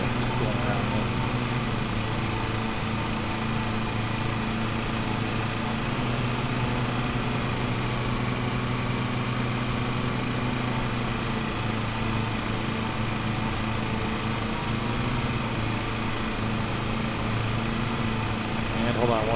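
Lawn tractor engine in a lawn mowing simulator game, a steady droning hum running unbroken at moderate level throughout.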